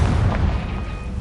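A fire-spell blast in Hogwarts Legacy: a deep, booming explosion with a heavy low rumble that stays loud and steady through the short moment, with no voices over it.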